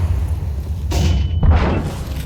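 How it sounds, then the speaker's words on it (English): Flashbang grenade detonating in a tactical shooter match, a single loud burst of bright hissing noise over a steady low rumble of game ambience, followed by a second noisy swell about half a second later. "Flashbang."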